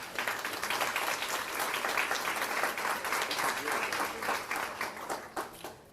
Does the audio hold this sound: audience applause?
yes